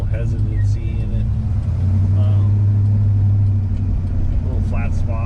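The engine of a 1960 Dodge Dart Phoenix, with a slight carburetor hesitancy, runs as a steady, fairly loud low hum while a person talks over it.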